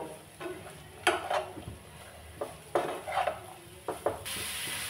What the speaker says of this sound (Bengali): সব সবজিগুলো ভালো করে একটু ভেজে নেব